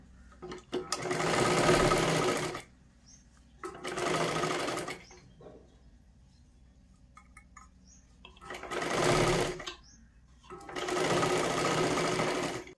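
A sewing machine runs double stitching on a katori blouse in four loud, sustained bursts of rapid clatter, separated by quiet pauses with faint handling noises.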